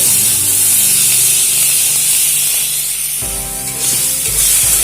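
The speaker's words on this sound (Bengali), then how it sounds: "আর দিয়ে দিচ্ছি লবণ হলুদ গুঁড়ো আবারও একটু ভালো করে এগুলোকে ভেজে নেব" Potato, onion and tomato fry in a pan with salt and turmeric, making a loud, continuous sizzle close up with a brief shift in texture partway as the pan is stirred; no one speaks.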